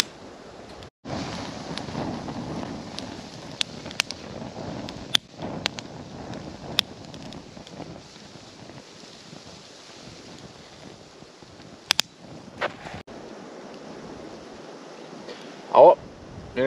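Steady wind buffeting the microphone over choppy, rough waves on a Swedish lake, Skärsjön, a continuous rushing roar with a few faint clicks and knocks.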